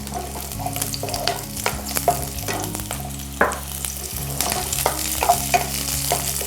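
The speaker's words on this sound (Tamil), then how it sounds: "சின்ன வெங்காயம் உரிச்சது சேர்த்துக்கலாம்." Peeled shallots fry and get stirred in a pan for a sweet potato and bitter gourd kara kulambu, a steady close sizzle broken by repeated scraping stir strokes, with no talking.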